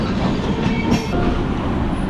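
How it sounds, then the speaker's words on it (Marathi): The Tamil Nadu Express from Chennai Central runs at Nagpur, a loud, close, steady rumble of railway cars with rhythmic wheel clatter and faint metallic squeal over a dense low roar. "ही चेन्नई सेंट्रलवरून आलेली तमिळनाडू एक्सप्रेस"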